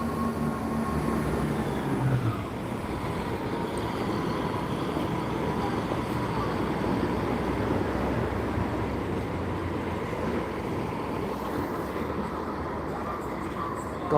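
A delayed train pulls into Gloucester station, its steady rumbling rail noise and rolling wagon sounds filling the platform continuously at moderate loudness, with faint voices around.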